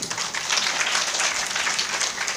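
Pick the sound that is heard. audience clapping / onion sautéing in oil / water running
audience clapping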